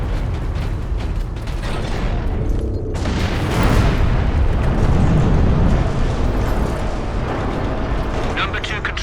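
Heavy cannon fire and booming battle noise from the Warhammer 40,000 Space Marine game, a dense loud rumble with mechanical creaks that swells mid-clip, mixed with game ambience.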